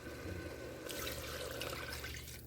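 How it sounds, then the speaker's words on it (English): Chicken stock poured into a pot of campfire beans, a steady close splashing rush of liquid that swells after the first second and runs on continuously with no talk. "you want to go ahead and pour the stock in"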